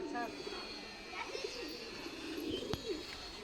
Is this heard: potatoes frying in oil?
no